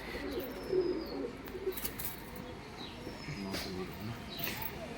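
Madras pigeons in a cage give low cooing calls, with a few short coos standing out over a steady murmur of other birds and background noise.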